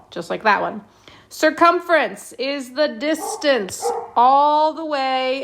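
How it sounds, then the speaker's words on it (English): A dog barks in the background of a geometry lesson, with short yips and bow-wows scattered beneath continuous close speech from a teacher. "Please excuse my dog in the background."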